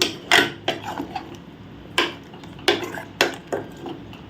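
A spoon knocks and scrapes against a cooking pot in irregular strokes as thick chicken kurma is stirred, close and clear with no talking.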